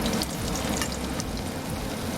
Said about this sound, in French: le plonger dans l'huile